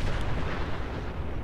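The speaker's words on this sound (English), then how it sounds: "That's a pretty violent explosion, too." Explosion in the video game Fallout 4, a loud broadband blast that fills the whole short stretch and decays slowly into rumbling debris, with no voices over it.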